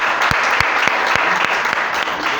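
A group at a devotional lecture gives a round of applause, dense continuous clapping with a few sharper claps standing out, fairly loud and close.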